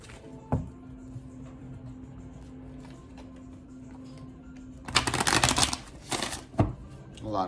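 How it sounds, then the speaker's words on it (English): Tarot cards spill and riffle during a shuffle, a burst of crisp papery flutters and slaps followed by a few sharper card snaps, close and fairly loud after a quiet stretch with a low steady hum. "A lot of cards fell out."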